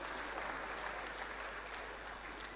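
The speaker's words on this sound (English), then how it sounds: "I thought we would applaud them for all these achievements." Audience applauding Bendel Insurance FC at a jersey unveiling event, a faint, even wash of clapping heard at a distance with no voices.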